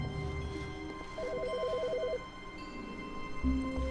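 A telephone rings inside the video game The Stanley Parable, a trilling electronic ring lasting about a second over a low ambient game hum, with no one speaking.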